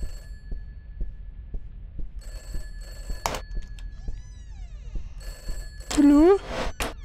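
A telephone rings inside a video game, a bright electronic trill sounding in repeated bursts over a dull, rhythmic thumping background, with a short vocal sound near the end.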